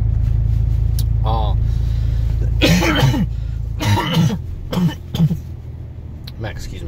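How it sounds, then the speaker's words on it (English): A man coughs hard and clears his throat several times in a row, loud and close. A steady low rumble like an idling engine fills the first few seconds. "now that I'm done coughing my lungs out"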